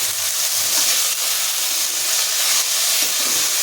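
Vegetables and spices sizzling in oil for veg kurma, a steady bright hiss of frying with no pauses and no voices, close and fairly loud throughout.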